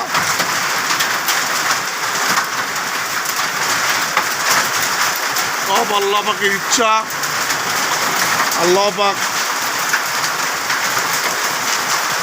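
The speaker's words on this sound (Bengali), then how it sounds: "সকাল ছয়টা বাজে প্রচুর শিলাবৃষ্টি হচ্ছে প্রচুর শিলা পড়তেছে" A heavy early-morning hailstorm in Mohanganj, Bangladesh, pours down as a loud, dense, unbroken clatter and hiss of falling hailstones, while someone speaks briefly over it.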